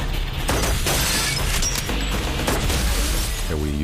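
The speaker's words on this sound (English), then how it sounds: "some rubber glass that we shot into the bus" Rubber glass fired into a bus as a film effect shatters in a dense, continuous crash of breaking and scattering fragments, loud and close throughout.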